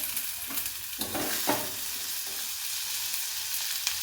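Red pumpkin slices sautéing in a pan give a soft, steady sizzle of frying. Occasional scraping stirs rise above it, and there is no talking.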